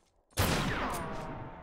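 A single musket shot fires in the video game Knightfall: one sudden sharp blast followed by a rolling, fading echo, with no talk over it.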